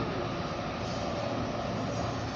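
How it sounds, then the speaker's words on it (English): A Norfolk Southern freight train with two locomotives and double-stacked cars rumbles past nearby, a steady, loud, broadband roar throughout. "There's a train."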